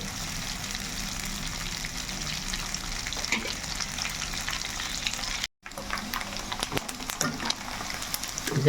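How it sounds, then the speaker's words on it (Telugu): Raw prawns fry in a pan for prawn pickle. The constant dense sizzle is interrupted once by a brief silent gap, and occasional scraping stirs follow. "మనం బాగా వేపుకోవాలండి గోల్డ్ బ్రౌన్ కలర్ వచ్చేటట్టు"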